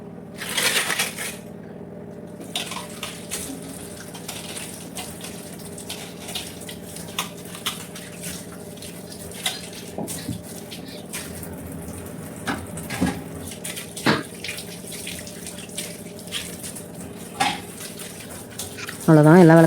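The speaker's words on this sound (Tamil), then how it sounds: "இப்போ எல்லாத்தையும் நம்ம கழுவி எடுத்துரும் சுத்தமாக." Scrubbed lamps and metal vessels being rinsed with water, with scattered metallic clinks and clatter as pieces are handled, some louder knocks, and a voice talking now and then.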